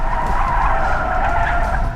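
An electric car at full throttle in sport mode produces a loud, sustained tire squeal and skidding hiss close by, holding steadily for the entire moment without a noticeable engine note.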